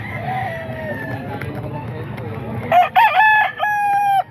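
Roosters at a chicken market, with a low murmur of nearby voices and shuffling, then a loud close rooster crows twice in quick succession, with clucking and another bird faintly crowing in the background.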